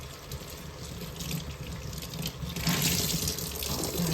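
Water runs from a tap into a basin being filled as a hot bath for hand-dyed fabric. The stream pours steadily and quietly, and the splashing grows fuller and louder toward the end.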